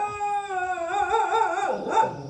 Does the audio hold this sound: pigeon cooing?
no